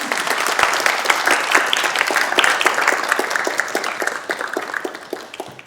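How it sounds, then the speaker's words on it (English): A conference audience applauds a panel on biodiversity and nature-based solutions, with loud, close, crisp clapping from many hands that holds steady and then tapers off near the end. "if you could give them a round of applause."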